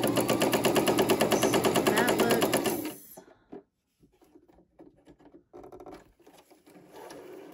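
A sewing machine running fast on wide stitches, a loud steady rapid mechanical rattle for about three seconds, then stopping into quiet handling clicks and small knocks.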